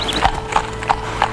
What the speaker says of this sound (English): Can't you see that horse and carriage coming?